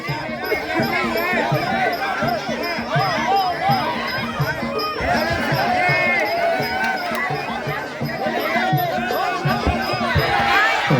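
At a women's Muay Thai bout in Sisaket, a crowd roars and chatters steadily after a landed punch, a dense, loud wash of many voices, with excited cries rising above it and commentary running over the top.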